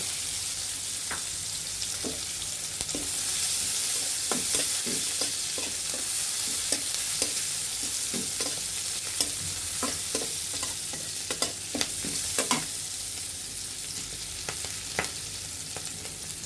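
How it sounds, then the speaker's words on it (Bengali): Chopped onion and green chili fry in leftover fish-frying oil, giving a steady close sizzle with repeated sharp spatula scrapes and taps against the pan throughout. "সেই তেলের মধ্যেই আমরা পেঁয়াজ কুচি এবং লঙ্কা কুচিগুলো দিয়ে দিব"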